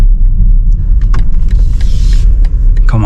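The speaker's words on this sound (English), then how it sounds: "Okay, I will open the driver's window" Driver's power window of a BMW XM lowering, a soft electric motor whir over the steady low rumble of the car's cabin, ending with a brief thunk.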